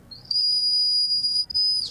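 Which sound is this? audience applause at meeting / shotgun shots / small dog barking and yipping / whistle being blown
whistle being blown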